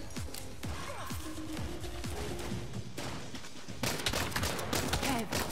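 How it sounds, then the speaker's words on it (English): Enemy gunfire in the Saints Row video game, a dense burst of rapid shots and impacts filling the whole stretch, getting louder and busier toward the end. "now the idols are like shooting at us"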